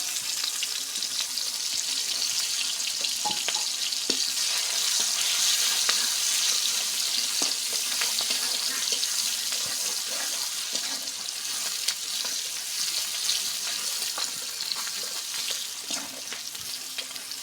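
Bay leaf, cinnamon, green cardamom and chopped onion frying in hot oil, a dense, continuous bright sizzle close up with occasional faint spatula clicks, no voices.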